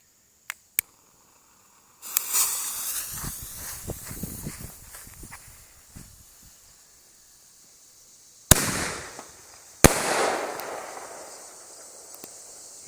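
Canister and mini ball firework shells loaded fuse-up into a tube: two sharp pops, then a crackling, sputtering burst of many small reports, followed later by two loud, sudden launches, each trailing off in a hissing, crackling decay.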